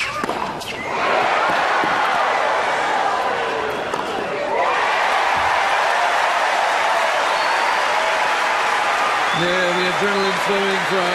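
Tennis crowd at the 2002 Key Biscayne final between Agassi and Federer, a broad, steady wash of applause and cheering filling the whole stretch, with a brief dip midway and short tonal sounds near the end.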